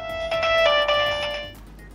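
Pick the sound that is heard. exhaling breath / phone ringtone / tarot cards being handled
phone ringtone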